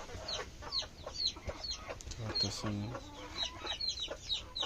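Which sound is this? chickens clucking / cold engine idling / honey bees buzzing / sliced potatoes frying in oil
chickens clucking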